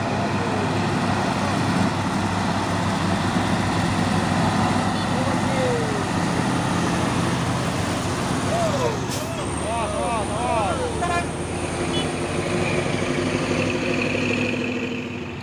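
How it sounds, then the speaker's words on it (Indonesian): A 6x4 CPO tanker truck passes along a road amid heavy, loud engine rumble and traffic drone, with a hiss of air brakes near the end and voices talking over it. "Truk tangki CPO 6x4 HD nya."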